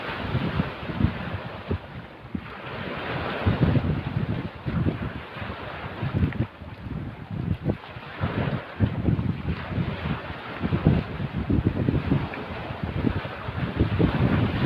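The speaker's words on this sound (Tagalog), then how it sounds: "At medyo malalaki ang alon." Wind buffets the microphone in heavy, uneven gusts while sea waves rumble and wash nearby, continuous and fairly loud with no talking.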